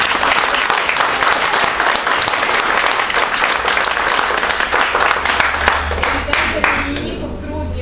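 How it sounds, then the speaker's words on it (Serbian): Sustained applause from an audience honouring candidates and craftsmen at a school event, dense clapping filling the whole stretch before thinning out near the end. "Molim za njih jedan aplauz."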